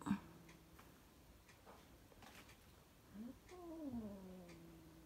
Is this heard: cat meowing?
yes